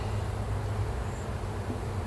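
Honeybees drone steadily at a hive box during an inspection, a dense, continuous buzz close by that holds an even level throughout.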